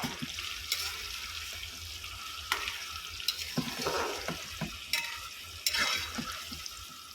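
Beans are tipped into a hot frying pan at an outdoor picnic cookout and sizzle steadily, with stirring scrapes and clatters over the frying.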